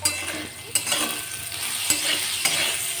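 Soybean curry with potato, turmeric and salt being stirred and fried in a pan, a close continuous sizzle broken by occasional scrapes and knocks of the spoon.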